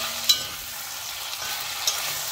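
Honey mustard chicken with masala dressing being stirred in a pan, giving a steady soft sizzle with a few faint scrapes of the spoon, close and continuous, with no talking.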